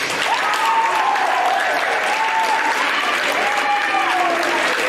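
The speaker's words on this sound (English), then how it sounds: "please give them a nice round of applause" A crowd at a high school team gathering applauds steadily and loudly for several seconds, with a voice speaking over the sustained clapping.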